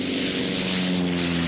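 Propeller seaplane engine drone, steady and loud with strong low harmonic hum, as the aircraft settles onto water in a radio drama sound effect.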